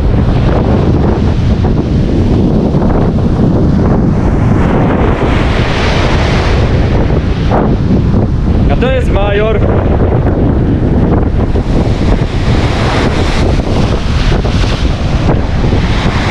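Sea waves wash in around a dog playing at the shore, with heavy wind buffeting the microphone throughout in a loud, constant roar, and a brief voice speaking near the middle.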